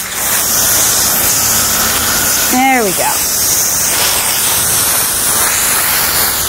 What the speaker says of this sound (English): So I'm gonna use a hard spray just to get in and like power wash her.